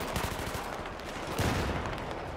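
Enemy gunfire in the Battlepicnic video game, a steady stream of rapid shots crackling over a noisy game soundscape, with a heavier burst midway.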